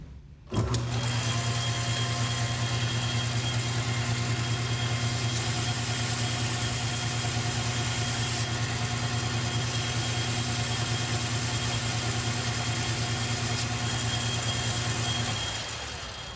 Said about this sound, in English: Gonna hack them on the lathe